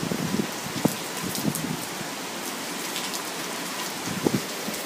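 Steady rain pattering hard on surfaces during a storm by the ocean, a constant close hiss with occasional louder drops and gusty wind.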